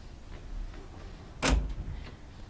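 An indoor door opens with a sharp click and thump in a domestic drama scene, a single brief event rising out of a quiet room, followed by faint room noise.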